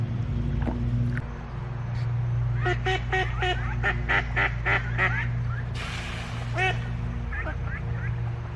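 Ducks call at a pond, delivering a close, loud run of honking quacks in rapid bursts with a few isolated calls before and after, over a steady low background hum.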